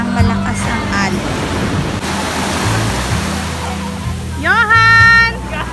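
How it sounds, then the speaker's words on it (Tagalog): Strong sea waves roll in at a beach resort in Baun, Batangas, making a loud, continuous roaring surf that fills the whole stretch, with voices briefly audible near the start and end. "Malakas ang alon guys, pero yan ang gusto ng mga bagets."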